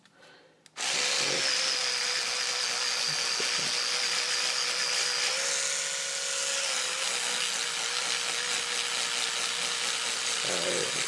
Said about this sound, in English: Rubbing the toothbrush over it.